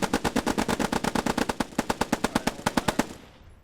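Two Bren machine guns in Post Scriptum rattle off rapid, evenly spaced bursts of sharp shots for about three seconds, loud and close, then the firing stops and a fading echo trails off.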